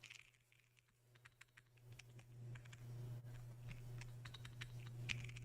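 Scattered key clicks from typing on a Qi65 R2 mechanical keyboard, soft and uneven in rhythm, over a steady low electrical hum in a quiet room.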